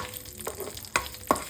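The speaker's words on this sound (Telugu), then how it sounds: "ఒక ప్యాన్ పెట్టుకొని అందులో ఆయిల్ పోసుకొని కొద్దిగా సాజీరా, అలానే దాల్చిన చెక్క, 2 లవంగాలు, 1 ఇలాచి, 1 బిర్యానీ ఆకు" Whole spices and curry leaves (shahi jeera, cinnamon, cloves, cardamom, bay leaf) sizzle in hot oil in a pan, a soft steady fry with a few sharp stirring clinks, close and quiet.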